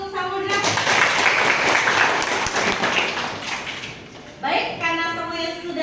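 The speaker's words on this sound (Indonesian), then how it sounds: "Kasih aplaus untuk Samudra" Classroom applause for a student presenter, a few seconds of steady clapping from a group of students, fading out as a voice speaks again.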